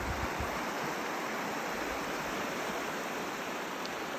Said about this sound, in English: It's a river flowing north